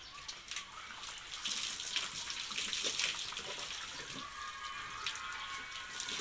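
Water splashes and pours while a person is bathed, irregular spattering and trickling at moderate level with faint background sounds and no clear talk.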